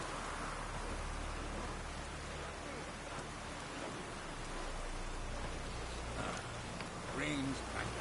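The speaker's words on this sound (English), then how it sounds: "Rain's back again." Steady rain falls in The Witcher video game, a continuous even hiss with no distinct drops, holding at moderate loudness throughout.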